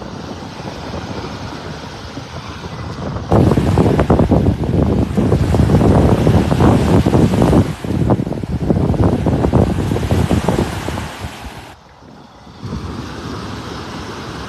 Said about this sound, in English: Just fighting the wind here while I'm walking up the beach.